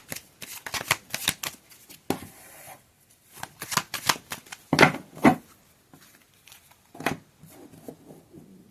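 Oracle deck cards are shuffled in quick bursts of riffling and flicking. Close, crisp rustles come in irregular clusters separated by short pauses.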